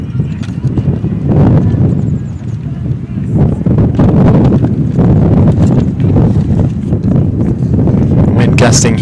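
Wind gusting across an outdoor softball field at a state playoff game, loud buffeting rumble against the microphone with rustling bursts that rise and fall over nine seconds.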